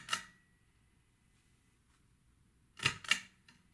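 Pull chain switch on a Super Mario lamp, a crisp metallic click at the start, then after a pause two quick clicks close together, near and clear with silence between.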